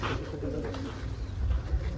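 Pigeons coo softly in low, murmuring tones over a steady low rumble of background noise on the path up Jabal Thawr near Mecca, no voices present.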